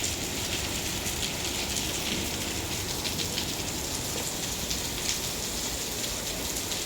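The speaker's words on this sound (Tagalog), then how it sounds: "Umuulan, umuulan." Steady rain pours down evenly, a constant hiss of drops striking surfaces nearby with no break or other sounds.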